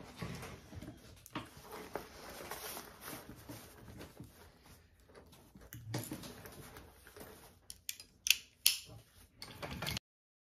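A home sewing machine bastes the lining and exterior layers of a backpack together along the edges, whirring steadily in bursts with short pauses and a few sharp clicks near the end.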